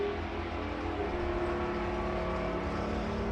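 A drag racing car makes a hard launch down the strip at Santa Pod Raceway, a loud, steady engine roar that holds for several seconds without a break.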